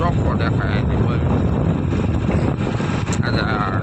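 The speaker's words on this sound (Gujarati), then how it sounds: "પવન તો આવતો હોય તમને, પણ હવે ચાલુ ગાડી છે એટલે પવન તો આવવાનો જ છે થોડો" Steady wind noise buffets the microphone while riding in a moving vehicle through village countryside, a continuous loud rumbling roar that fills the whole stretch with only brief flickers above it.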